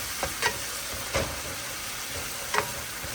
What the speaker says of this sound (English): Saute the onion, you know, the green onions, thyme, everything.